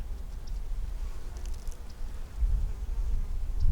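Honeybees in an open hive make a dense, continuous buzzing hum that stays close and steady and swells slightly toward the end, with no voices.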